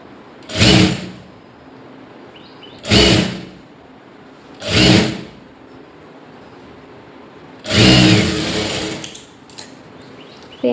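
A sewing machine stitches a blouse lining in four short bursts, the last one longest, with quiet pauses between runs.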